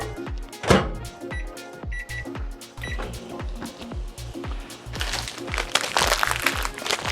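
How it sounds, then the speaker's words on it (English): A microwave oven runs while thawing chopped food, giving off a steady hum with a regular ticking, clattering rhythm and a few short tonal beeps, close and moderately loud, with no talking. "I'm going to put this in the microwave and microwave it for, well, I'd say a minute and a half"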